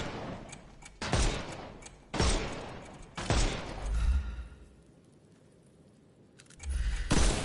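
Gunfire in the Sherlock Holmes Chapter One video game, four loud bursts of shots at roughly one-second intervals, then a lull and a final burst at the end.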